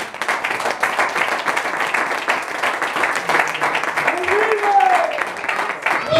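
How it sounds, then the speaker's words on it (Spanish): A church congregation claps steadily throughout, dense and continuous, while a voice speaks over the applause. "Dale un aplauso al Señor."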